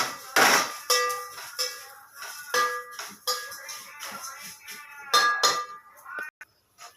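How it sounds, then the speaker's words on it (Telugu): A passing vegetable vendor's cart bell rings out in a series of sharp metallic clangs, close and irregular, with short gaps between strikes and occasional talking in between. "కూరగాయల బండి వచ్చింది"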